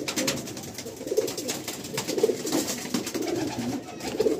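Pigeons kept in a loft coo in low, repeated bursts, several close calls rising over a steady murmuring flock background.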